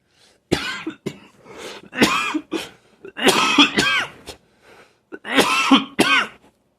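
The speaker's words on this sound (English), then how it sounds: "I'm coughing though like that." Repeated loud, harsh coughing fits close to the microphone, several bursts separated by brief quiet gaps, with some throat clearing.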